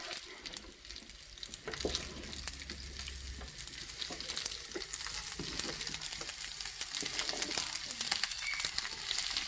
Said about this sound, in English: So I'm just going to go ahead and stir it up.